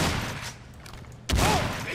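Gunfire in the shooter Crysis comes as a dense rattle of shots at first, eases off, then returns as a loud, close burst of firing that carries on to the end.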